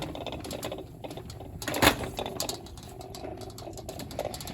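A Silver Bullet coffee maker rolls along on its cart, giving a fast rattling clatter of wheels and loose parts with one louder knock partway through, heard close and alone.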